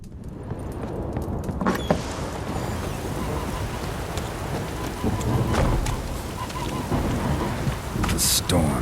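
Heavy rain and rumbling thunder in The Witcher 3 thunderstorm, a dense steady downpour under low rolling rumbles, with a few sharper cracks and splashes rising out of the wash.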